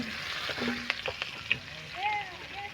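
Onions sizzling as they fry in a pan for a soybean chunk curry, with an even hiss broken by a few sharp scrapes and clinks of stirring, plus faint tonal squeaks in the background.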